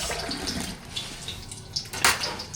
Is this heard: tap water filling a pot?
yes